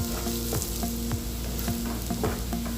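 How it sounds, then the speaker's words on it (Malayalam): Garlic, ginger and green chillies sizzle loudly in a frying pan while a spatula scrapes and stirs in repeated strokes. The strokes come roughly every half second over a constant frying hiss. "വാടി വരുന്ന വരെ നമുക്കൊന്ന് നന്നായിട്ട് മിക്സ് ചെയ്യാം"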